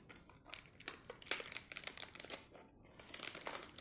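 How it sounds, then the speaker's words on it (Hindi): A freshly delivered pack of Amar Netram vati is torn open by hand, producing close, crisp crinkling and rustling of plastic packaging in irregular bursts, with a brief pause before the crackling resumes. "तो मैं पैक खोलता हूँ यहाँ से"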